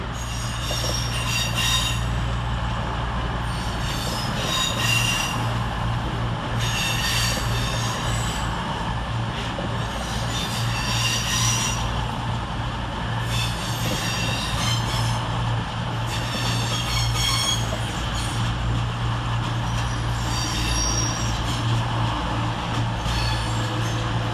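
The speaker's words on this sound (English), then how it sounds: "Arriving next to terminate with a cross-country service off of Southampton Central is 221130 and 220017." A Cross Country service from Southampton Central, units 221130 and 220017, pulling into Manchester Piccadilly station, with a steady loud rumble and drone, repeated high wheel squeals and a constant low engine hum.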